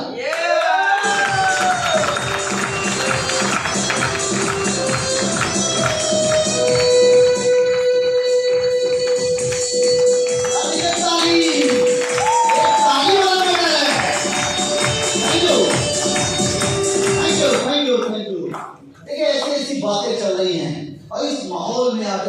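An audience at an RCM business seminar claps in a dense, sustained burst of applause with a voice talking over it. The clapping stops abruptly near the end, leaving speech alone.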